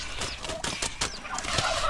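Turkeys gobbling in bursts on a farm beside a new hut, several close, agitated calls overlapping over a steady outdoor background.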